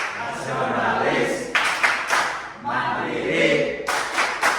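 Schoolchildren in a classroom clap out the rhythmic Tepuk PPK chant together, bursts of group clapping mixed with chanted voices, close and fairly loud, with a voice leading the call.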